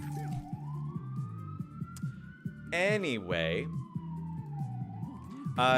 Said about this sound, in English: My goodness, the ambulance is literally outside my window right now